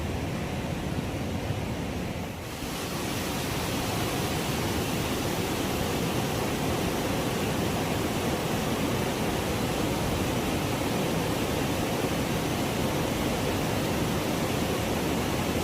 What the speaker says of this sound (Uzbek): Suv tushar sharsharasining yomg'irdan keyingi ko'rinishi mana shunday.